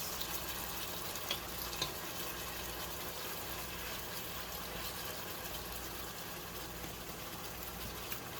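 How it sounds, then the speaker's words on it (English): Potatoes sear in a pan after the beef comes out, giving a steady, even sizzle and hiss that runs the whole time with no talking, broken only by a couple of faint clicks. "we'll be searing the potatoes for about 2 to 3 minutes"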